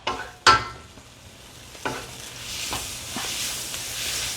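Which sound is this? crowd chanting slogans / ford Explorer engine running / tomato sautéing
tomato sautéing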